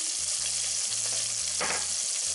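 Onions sautéing in a pan, a dense, even sizzle close up with a low steady hum underneath, no talking.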